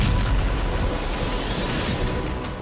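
Artillery bombardment in Kharkiv during the war, a dense, heavy rumble of booms rolling on continuously and fading slightly toward the end.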